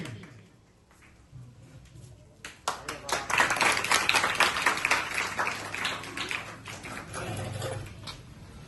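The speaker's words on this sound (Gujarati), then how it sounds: "જોરદાર તાળી" Schoolchildren clapping for a fellow student in a primary school classroom, a burst of applause swelling after a quieter start and sustained to the end, with voices mixed in.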